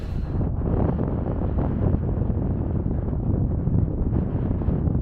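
Strong wind buffets the microphone in a steady, loud roar with low rumbling gusts throughout, no voices, on the Isle of Wight.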